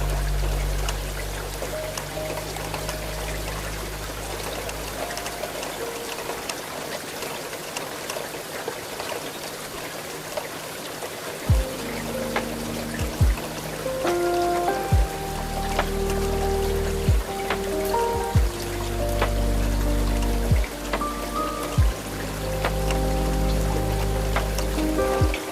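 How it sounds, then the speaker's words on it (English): Heavy rain drums steadily on the glass of a night train crossing the Scottish Highlands, a dense continuous patter with occasional louder drips and low rumbling thuds from the carriage beneath. "The rain on the glass above you has not relented"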